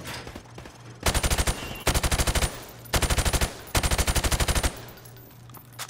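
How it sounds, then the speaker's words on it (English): Bursts of automatic gunfire from Call of Duty Modern Warfare, firing through a thin plywood target: four loud rapid volleys separated by short gaps, over a low steady game hum, with no talk. "I want you to shoot the target through the wood."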